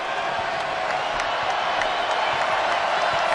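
Crowd noise swells through a college basketball arena during a Stetson vs. South Carolina game at Colonial Life Arena, a continuous broad roar with scattered whoops and claps, loud and steady throughout.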